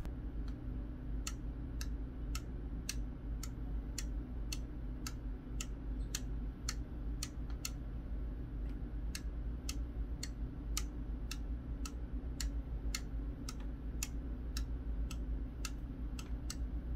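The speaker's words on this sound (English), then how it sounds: "the relay will jump with your volume adjustments step by step." Steady, evenly spaced sharp clicks repeat about once a second over a low background hum, like a relay ticking step by step.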